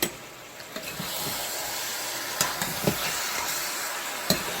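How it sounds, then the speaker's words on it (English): Trinidadian stew pork ribs are stirred in a pot, giving a steady bubbling sizzle with scattered scraping knocks of the spoon against the pot. "And let's stir this up a little again."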